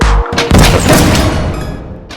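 Heavy booming blasts and crashing explosions from the cyberpunk shooter game Danger Scavenger, a loud deep hit followed by a dense, decaying roar of debris and gunfire lasting about two seconds.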